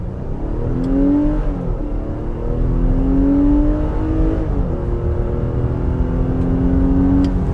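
A 2022 Nissan Pathfinder pulls away hard from a stop in sport mode, its engine note climbing steadily through several distinct gear shifts, loud and close from inside the cabin.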